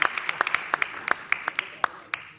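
Audience clapping on a French game show, a sparse, steady patter of individual hand claps from a small crowd, fairly close and moderate in volume.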